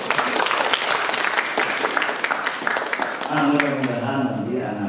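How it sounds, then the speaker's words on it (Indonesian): Children on a school visit to a university health faculty give a burst of dense applause, which thins out as an adult voice begins speaking over it. "Tepuk tangan anak-anak."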